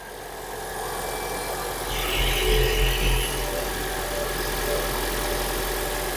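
A 2017 Toyota Prius Prime petrol engine idles in hybrid mode after a spark plug change: a steady low hum with faint vibration, swelling slightly midway, close by and with no talk.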